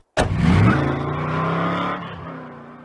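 A cartoon car pulls up with a sudden loud engine roar that revs and then holds steady for about two seconds before cutting off abruptly.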